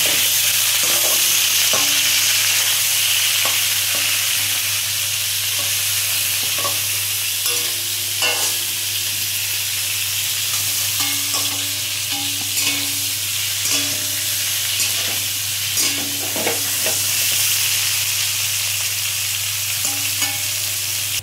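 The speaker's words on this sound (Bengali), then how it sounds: "ফুলকপি ভাজা হয়ে গেছে, এবার আমি কপিটা তুলে নিচ্ছি।" Cauliflower pieces fry in hot oil with a steady, close sizzle throughout, broken by repeated clinks and scrapes of a spatula stirring and lifting them from the pan.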